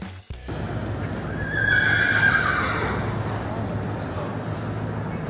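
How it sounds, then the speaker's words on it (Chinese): A horse in a stable gives a loud, drawn-out whinny over a noisy, rumbling background, rising then trailing off, with faint murmuring around it. "刚才有马叫，吓了我一跳。"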